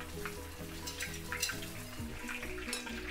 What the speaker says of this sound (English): So we fry the other side for approximately about another 7 minutes